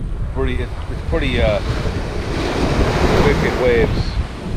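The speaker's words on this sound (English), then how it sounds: "wicked waves." Ocean surf rolls and crashes continuously at Maho Beach, St. Maarten, a steady loud wash of waves with wind buffeting the microphone, while voices talk over it.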